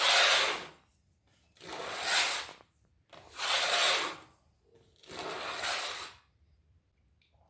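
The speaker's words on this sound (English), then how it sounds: "The simplest method is by honing on a hanging strop." A knife blade honed on a hanging strop gives four long, even rubbing strokes, each lasting about a second, with short quiet gaps between them, close up and steady.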